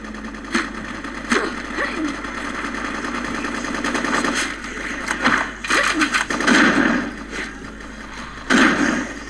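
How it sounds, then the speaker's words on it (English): Rifle shots crack in the video game BloodRayne, a few sharp reports over a steady game engine drone, with someone talking over the action. "Shot him twice with that rifle."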